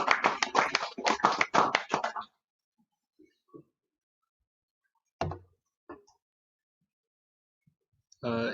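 Audience applause after a hackathon team presentation, a dense burst of clapping lasting about two seconds before stopping, followed by near silence with a few scattered taps and knocks.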